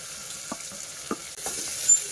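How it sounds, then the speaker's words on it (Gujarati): Garlic, chillies and onion fry in a pan for a Gujarati bottle gourd dal, with a steady soft sizzle under a few short, distinct scrapes of a spoon stirring. "સેજ આવી રીતે ફેરવી તેની અંદર મરચાં અને ડુંગળી બધું ઉમેરી દઈશું."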